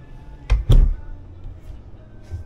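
Two quick knocks as an RV privacy door swings and clicks shut nearby, followed by quiet room tone with faint shuffling.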